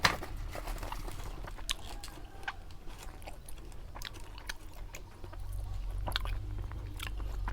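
Crispy baked pork intestine crunched and chewed close up, a steady run of sharp crackling bites over a low rumbling background, with no talking.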